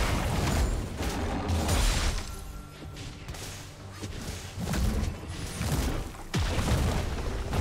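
A turret collapses in League of Legends with heavy booms and crashing impacts, followed by rumbling debris and whooshing game effects, loud throughout with brief dips between bursts.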